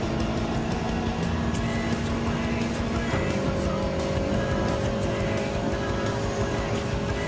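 Race car engines in the Gran Turismo 7 racing game, with a BMW M4 Gr.4 among them, drone loudly and continuously, the pitch shifting with a gear change partway through.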